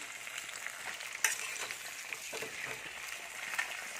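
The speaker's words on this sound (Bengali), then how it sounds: "আর এখানে আমি তেল গরম করতে দিয়েছি" Oil heating and beginning to fry in a pan while cooking Bangladeshi tehari, a steady close crackle and sizzle with a few sharper pops and stirring scrapes throughout.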